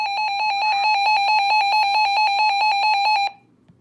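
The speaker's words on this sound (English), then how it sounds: "let's set the siren volume up to max." A RadioShack 12-258 weather radio sounds its siren alarm at maximum volume: a loud, rapidly pulsing electronic tone that repeats steadily for about three seconds and then cuts off abruptly, with no voices.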